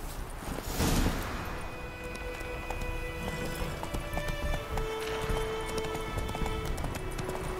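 Horse hooves clip-clop in The Witcher 3 video game, a close, steady rhythmic clatter of footfalls that continues over the whole stretch, with a brief whoosh near the start.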